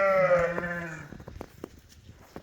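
A sheep on a livestock farm lets out one loud, close, wavering bleat, followed by fainter rustling and shuffling of animals nearby.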